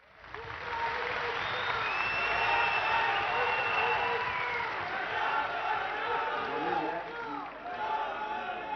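A ceremony audience gives a professor sustained, dense applause in a large hall, rising quickly and filling nearly nine seconds with clapping and some crowd noise before easing slightly near the end.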